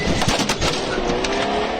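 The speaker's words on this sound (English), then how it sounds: "The sound of gunfire." Gunfire at a Russian troop roadblock during a war: several sharp, loud cracks ring out over a dense, noisy background.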